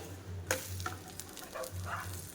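A jowar flour dosa roasting on a hot pan, a faint low sizzle with a steady hum beneath and a few soft scraping clicks of a spatula, no voices.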